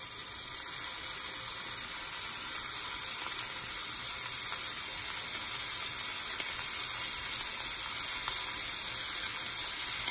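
Scallops and garlic sizzle steadily in a hot pan, a continuous bright hiss of frying with no break and no talking.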